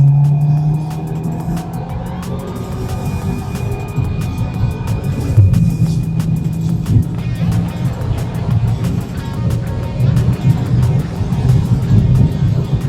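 A Skoda Octavia RS with a 2-litre TSI engine at full throttle on a straight track: a loud, continuous engine drone with steady throbbing harmonics and road rumble heard from inside the car.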